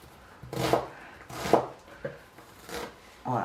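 Several knife strokes cut through poultry on a cutting board for a chicken curry, about four separate close chops spaced roughly a second apart with soft scraping between them.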